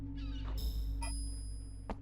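A cat meows a few times in short, faint calls over a steady electronic hum, with no talking.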